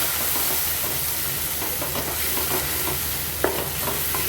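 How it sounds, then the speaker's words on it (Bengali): Ground spices are stir-fried in a hot pan for a fish, chicken and paneer curry base, giving a steady, loud sizzle with a soft scraping stir and an occasional sharp clink of a spoon against the pan. "গুঁড়ো মশলাগুলো দিয়ে দেব দিয়ে আবার কষিয়ে নেবো ভালোভাবে"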